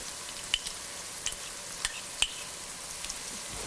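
Crushed shallots, ginger, green chilli and garlic sauté in hot oil for egg biryani, a soft, steady sizzle with a few faint clicks of a stirring spoon against the pan.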